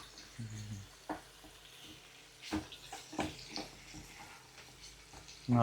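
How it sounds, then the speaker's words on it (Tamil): Seafood fries in a pan at home, a moderate steady sizzle with a few scraping stirs and light clatter, close by and with no voices. "இது வெந்துக்கிட்டு இருக்கு இப்போ தான்"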